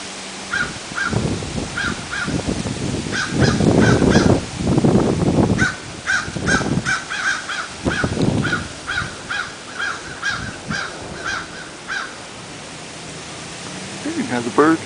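A crow caws repeatedly outdoors during a tropical storm, steady harsh calls spaced through the clip over a constant roar of wind and rain, with a person's voice briefly talking in between.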